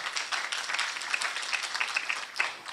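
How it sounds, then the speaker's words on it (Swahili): An audience at a Taita Taveta County awards forum applauds, with steady, dense clapping from a crowd that holds an even level and swells slightly at the end. "Tumuongeze tena makofi tafadhali."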